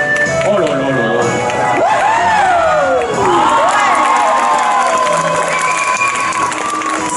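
A crowd at a medieval knights-versus-barbarians show in Angers cheers and applauds loudly, with children shouting and whooping over sustained clapping, and a voice speaking through the din.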